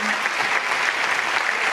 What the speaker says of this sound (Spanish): Forte aplauso para Dora Gómez